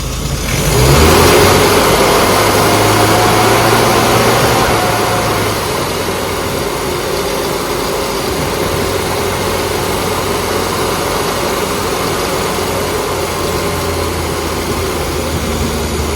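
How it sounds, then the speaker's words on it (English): Classic car engine revved during a tuning demonstration at a Riviera run, a rising rev early on that settles into a steady held engine note running nearby without talk. "I'm just checking across the rev range roughly what the fueling is"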